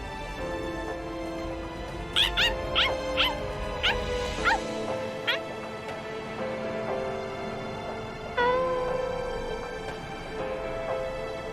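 A dog in the video game BLEACH: Rebirth of Souls gives a quick run of short yips and whimpering barks over a humming game music bed, then one more yelp near the end, fairly quiet and without talk.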